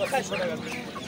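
Large roosters and hens at a busy Fatullah poultry market in Narayanganj give off clucks and short calls, close and steady, over a dense crowd murmur and nearby talk.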